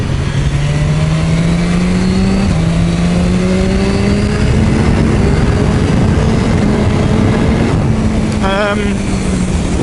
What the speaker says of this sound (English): Not happy either with the tick over on this bike as well. Sounds a little bit rough here and there.